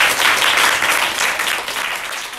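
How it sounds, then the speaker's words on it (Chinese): Audience applause fills a packed campaign volunteer gathering, a dense, steady wash of many hands clapping without a break, loud and close, with no voices over it. "所以先给自己一个掌声"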